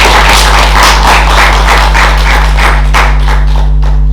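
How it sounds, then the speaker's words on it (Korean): A church congregation applauds during a Sunday service, a steady run of loud, fairly rhythmic claps with thuddy hits, all over a strong low electrical hum that persists throughout. "우리 박수로 축복하겠습니다"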